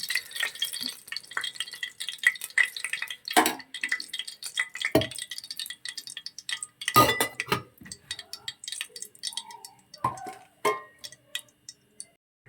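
Ghee sizzles gently in a pan on low heat for paneer ghee rice, a soft crackle broken by sharp ticks and clinks of a spoon against the pan, close and without voices.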